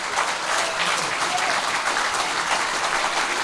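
A crowd gives steady, continuous applause for a group of young rugby players, the clapping dense and even from start to finish.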